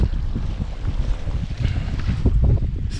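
Strong wind of about 20 knots roars steadily past the microphone during stand-up paddleboard sailing downwind in stormy conditions, with a constant low buffeting rumble and faint water sounds.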